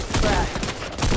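Rapid gunfire in the video game Fortnite, a dense, loud volley of shots pulsing in quick succession for just over a second, with no voices.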